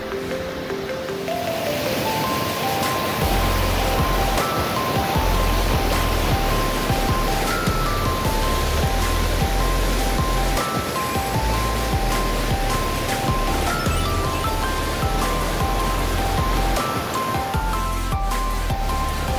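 Rangpo Khola river in East Sikkim rushing past, a loud, steady broadband roar of flowing water close by, continuous throughout.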